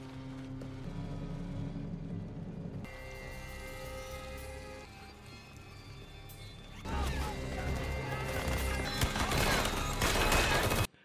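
Gunfire exchange in a mafia crime film scene as gunmen raid a hideout guarded by dozens of bodyguards. Music plays at first, then dense, loud bursts of rapid shots and crashes fill the last few seconds.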